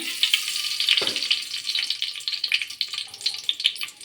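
Cumin seeds dropped into hot oil in a pan, giving a steady bright crackling sizzle with small pops throughout, close and moderately loud, no talking.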